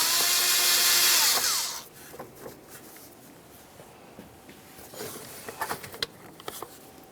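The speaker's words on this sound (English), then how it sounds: "Loosen the clamp just enough that you can remove the hose." Power driver whirs for under two seconds, loosening an 8mm hose clamp on the air filter housing of a 1998-2002 Lincoln Navigator, followed by quieter clicks and handling noises of the hose and tool.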